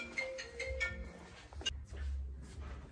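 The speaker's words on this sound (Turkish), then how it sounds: "Telefon çalıyor, bakayım da." A mobile phone ringtone plays a repeating melodic pattern of bright tones, then breaks off and starts again, moderately loud and close, heard on its own with no speech.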